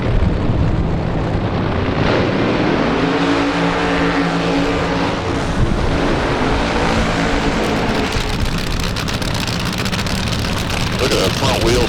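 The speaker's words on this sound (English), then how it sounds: "Look at the front wheels chatter there." Nitro drag racing car roaring at full throttle in a nostalgia drag race, a loud continuous thunder throughout with rumbling and rattling as the front wheels chatter, under a race announcer's commentary.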